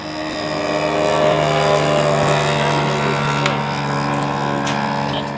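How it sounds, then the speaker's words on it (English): A scratch-built RC scale model of the 1930s Farman Mystique aircraft flies in to land, its engine a loud, steady, continuous drone with a strong even buzz that barely changes throughout. "Farman Mystique on base, turning final for his landing"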